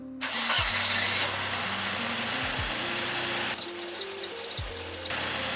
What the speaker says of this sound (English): Fingers crossed the car actually starts now.